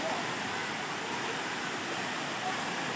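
The Rerebe waterfall in Gayo Lues roars as a steady, dense rush of falling water, loud and continuous with no break, filling the whole space.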